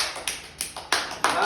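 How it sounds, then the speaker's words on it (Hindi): Children clap their hands in a classroom alphabet game, about five sharp claps in a quick, uneven rhythm, close and loud over a reverberant room. "ताली बजाओ इनके लिए"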